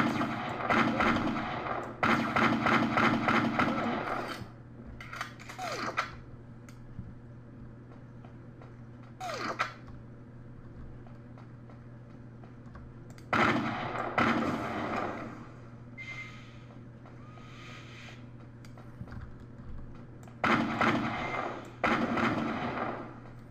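Enemy gunfire in a first-person shooter made with FPS Creator, recurring bursts of rapid rattling shots separated by quieter gaps over a steady low hum, several volleys in all.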